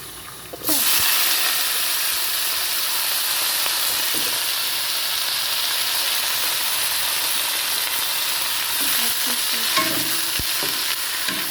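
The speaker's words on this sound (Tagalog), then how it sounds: "Lagyan na po natin ng lettuce." Lettuce drops into a hot pan with garlic and bursts into loud, steady sizzling frying, with occasional scraping and stirring knocks from a utensil against the pan throughout.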